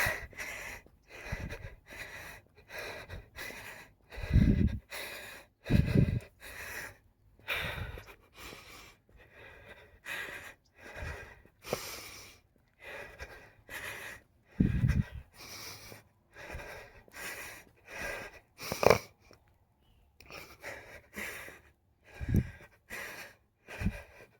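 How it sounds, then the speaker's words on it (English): Steady, rhythmic panting during a walk, quick breaths in and out repeating close to the microphone with a few louder, rougher gasps mixed in. "You can hear me panting now."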